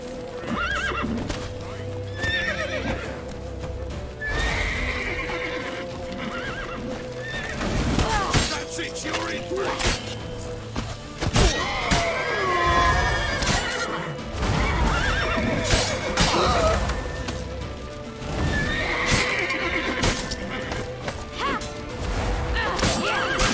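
Horses neigh repeatedly over rapid galloping hoofbeats in The Witcher 3, with crashes and thuds mixed in, loud and close throughout a busy action scene.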